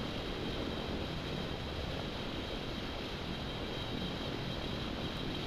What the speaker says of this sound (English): Taxiing to runway 19.